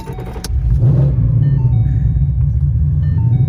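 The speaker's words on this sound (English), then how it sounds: "About to start her up, and then we're gonna have to immediately back up because the fumes" A supercharged Ford Mustang engine fires up close by, going from a brief cranking clatter into a loud, steady low rumble at idle.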